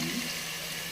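Tamarind juice pours into gongura cooking in a pot, a short steady liquid splash and trickle with a faint sizzle, close and alone without any talking.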